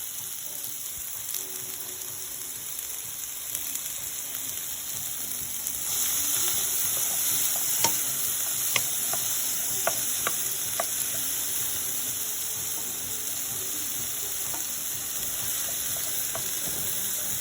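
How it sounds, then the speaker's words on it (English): Garlic, onions and peppers frying in a hot pan, a loud steady sizzle that swells once the vegetables go in, with scattered stirring clicks and no speech. "So, go ahead and put my garlic in there, onions and peppers."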